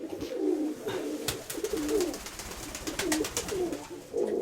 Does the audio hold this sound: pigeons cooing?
yes